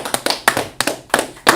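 A congregation claps together at the close of a Sabbath service, a quick run of sharp hand claps in loose bursts, close and clear with no talking over them.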